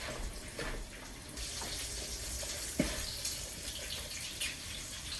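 Tap water runs steadily into a kitchen sink while hands are rinsed after mixing haluski dough, a continuous close splashing hiss with a few small clinks and no talking.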